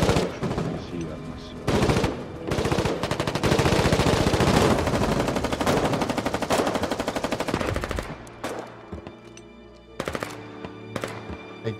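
Rapid machine-gun bursts and gunfire in the Foxhole war video game, dense sustained firing for several seconds before trailing into scattered single shots, loud and close.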